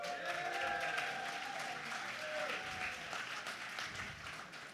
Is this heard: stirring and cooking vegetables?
no